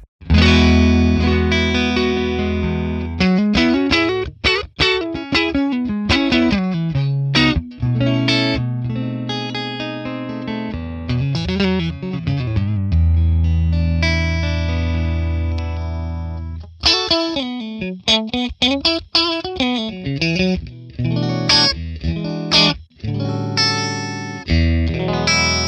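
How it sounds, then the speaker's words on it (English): Stratocaster played through a Friedman PLEX amp capture on a Jump Clean Fat setting, loud, close electric guitar chords and single-note runs with a bright, slightly crunchy edge and short pauses between phrases. "let's start right away with the Friedman PLEX Jump Clean Fat setting"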